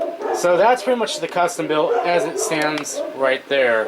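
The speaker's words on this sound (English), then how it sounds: "I do apologize for the dogs." Dogs barking and yipping indoors during a clear spoken description nearby.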